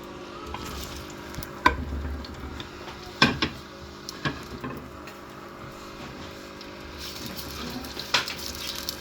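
Onions frying in about a cup and a half of oil for mutton curry, a steady low sizzle with occasional sharp clanks and scrapes of a utensil against the pot.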